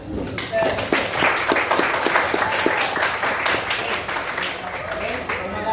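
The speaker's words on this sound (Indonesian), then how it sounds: "kita akan berikan aplaus untuk semuanya" A room of discussion participants at a teacher-training Qur'an and Hadith class claps together in sustained, dense applause lasting several seconds, with scattered sharper claps standing out from the steady patter.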